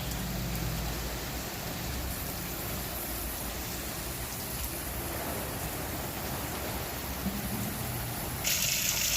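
Steady rain falls outdoors as a soft, even hiss, with a bird bathing in it, faint and continuous with no voices.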